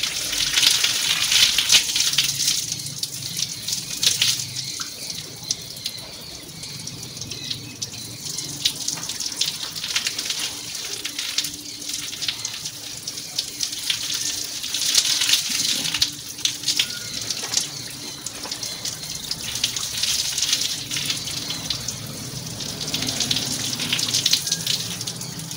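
Tap water runs steadily while shampoo is rinsed off dummies, a continuous hissing splash with slight shifts in flow and no talking.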